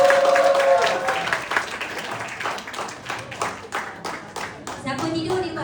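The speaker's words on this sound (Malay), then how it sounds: "Bagi tepukan" A small gathering claps for an aunty invited forward during a G-Shock cooker demonstration, a lively burst of close applause with scattered voices and chatter mixed in, tapering and then picking up again.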